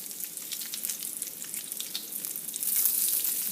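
Bacon sizzles and crackles steadily on a hot griddle, a close, even frying hiss that swells slightly louder near the end.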